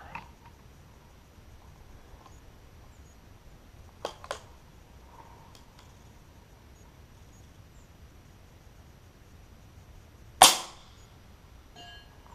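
A Texan .308 rifle fitted with an LDC moderator firing at steel targets 200 yards away outdoors, mostly quiet with faint clicks, then one sharp loud report near the end followed by a brief fading tail.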